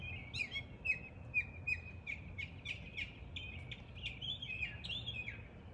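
A cardinal sings a run of repeated clear whistled notes, fairly close and prominent over a low background rumble, beside a mockingbird in a garden on a rainy day.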